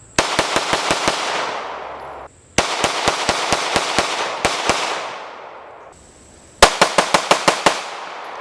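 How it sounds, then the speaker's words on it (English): A Glock Gen 5 pistol fitted with a flat-face trigger fires in rapid strings of sharp, loud shots, about five to seven quick reports per burst, each with a ringing tail, across three separate bursts with short pauses between them. "It makes real easy follow-up shots because it lightens the trigger pull."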